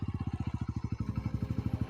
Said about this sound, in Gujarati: બિંદાસથી ચલાવજે બાઇક